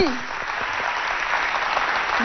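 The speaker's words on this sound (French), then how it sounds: "On applaudit." Audience applause at a televised quiz competition between school teams in Chad, a dense steady clapping that holds throughout, with a voice briefly heard at the start.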